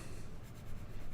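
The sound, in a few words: erasing pencil graphite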